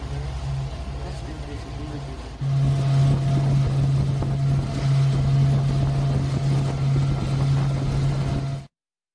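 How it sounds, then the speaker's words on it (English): Motorboat crossing rough, irregular waves off the Galapagos, a steady loud engine drone with hull thumps and wind rush that intensifies partway through and stays close throughout. "Even during the boat ride, we notice that there are quite high and, above all, very irregularly rolling waves."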